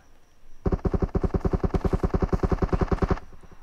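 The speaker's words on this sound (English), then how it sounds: "shots fired" Rapid automatic gunfire in PUBG Mobile, a sustained burst of about twenty evenly spaced loud shots lasting roughly two and a half seconds, close and dominant with no talk over it.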